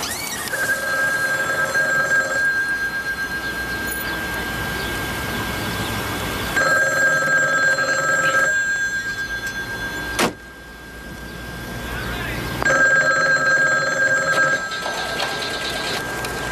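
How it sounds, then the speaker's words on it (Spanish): Telephone bell rings repeatedly in an office setting in a Cuban film, long electronic trills in three bursts separated by short pauses over steady room noise. "mira que ese teléfono da rutina"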